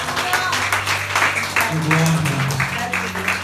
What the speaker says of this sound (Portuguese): E as palmas bem fortes para o Senhor.